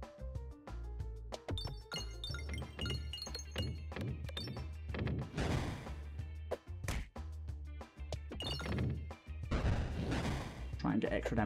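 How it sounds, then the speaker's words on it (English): Bombs explode in the video game Peglin as repeated dull thumps and crashes under rhythmic game music, with a voice talking over them. "Try and get extra damage with the bombs"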